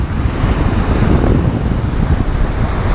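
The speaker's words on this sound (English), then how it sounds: "The wind is howling." Howling wind and rough ocean surf along the coast at Acadia National Park, a loud, dense, unbroken roar with heavy wind buffeting the microphone throughout and no voices.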